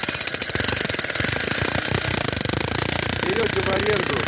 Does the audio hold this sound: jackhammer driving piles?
yes